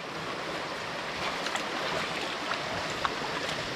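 Rushing river water during a river crossing on the trail to Gunung Tahan's summit, a steady broadband wash of flowing current with faint splashes and no voices.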